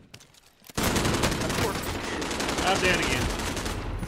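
Dense, sustained gunfire from a video game bursts in after a short quiet start and keeps going loudly, with a player's voice speaking briefly over the shooting.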